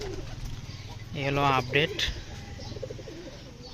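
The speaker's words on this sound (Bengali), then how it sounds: "কবুতর।" Pigeons cooing close by in a loft, a single rolling coo with a couple of shorter calls after it, over low background noise, with a voice speaking briefly.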